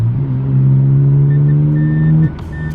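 A Mazda RX7 rotary engine pulling hard under acceleration in third gear, a loud steady rising drone close to the car that cuts off abruptly near the end, leaving a lower idle-like rumble.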